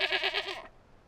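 Cartoon goats bleat in a quick run of about five wavering, nasal calls, close and clear, then cut off abruptly into near silence.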